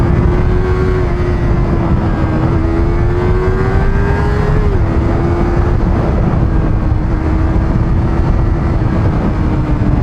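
A 2020 Yamaha R25 motorcycle engine pulls steadily under throttle, a loud, continuous drone rising slightly in pitch, with constant wind and road rush throughout and no talking.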